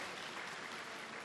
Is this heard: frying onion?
no